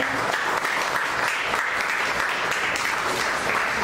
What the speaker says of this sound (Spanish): Dame una ofrenda de palmas.